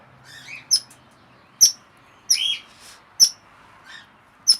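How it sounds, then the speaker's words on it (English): Red-rumped parrot chicks squawk from inside a nest box, giving a series of sharp, high chirping calls spaced about a second apart, moderately loud and close with no talk. "Other two in the box, squawking away. They heard their sibling squawk."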